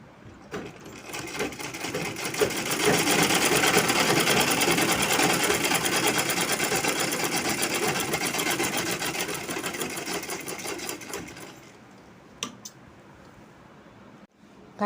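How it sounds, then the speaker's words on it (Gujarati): Sewing machine running a steady straight stitch to attach a zip onto a ghagra, a loud continuous whirring hum for about ten seconds, then stopping, with a few light clicks and handling noises afterward. "હવે આપણે સ્ટ્રેટ સિલાઈ કરી લઈએ છીએ"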